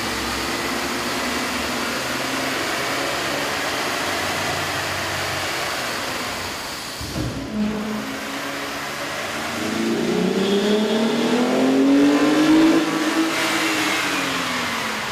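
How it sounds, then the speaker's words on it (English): A car engine on a dyno with a K&N 77-1566KP air intake drones steadily at high revs, briefly dips, then climbs in pitch with a rising intake roar, loud and continuous. "we ran the vehicle on the dyno to test the sound comparison versus the stock intake"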